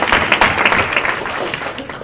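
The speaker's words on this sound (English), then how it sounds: "And let's give him a round of applause." Audience applause in a lecture hall during a talk on medical cannabis and multiple sclerosis, a dense wash of many hands clapping steadily across the whole stretch, loud and near.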